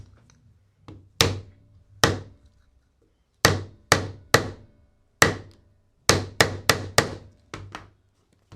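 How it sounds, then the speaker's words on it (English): Hammer blows on metal and parts while de-rattling: about a dozen sharp, close strikes in an uneven rhythm, some in quick bursts of two or three, with short silences between. "Hammer time. Literally."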